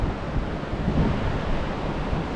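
Steady ocean surf on the Big Sur coast washing in with a low, broad rumble and some wind noise, continuous with no voices.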